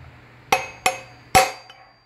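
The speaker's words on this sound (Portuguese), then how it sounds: "Estou batendo com o eixo." Three sharp metallic knocks, closely spaced with a faint fourth, as a wheel bearing is driven into a Honda CB 300R front wheel using the axle as a drift, close and loud with no talk.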